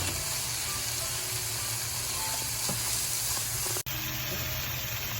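Onions and about seven or eight minced garlic cloves for a cottage pie sizzle steadily in a pan while being stirred, a dense continuous hiss close up with faint scraping, no talk.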